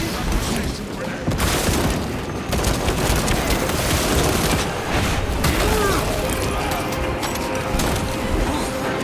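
A grenade blast in the video game Warhammer 40K Space Marine 2, mixed into a dense, loud battle din of booms and rapid gunfire that keeps going throughout.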